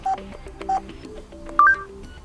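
Keypad tones on a Samsung B2710 Solid phone while a password is typed in: three short, distinct beeps spaced apart, close and clear with no voices.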